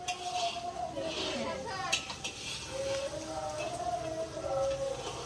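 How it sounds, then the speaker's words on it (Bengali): Fish being stirred in hot oil in a cooking pot, with scraping and clinking of the utensil against metal over a soft sizzle, a voice chatting nearby. "একটু মাছের তেল রান্না করছিল ওই দিদিটা, ওটাকেই নাড়াতে গেছিলাম"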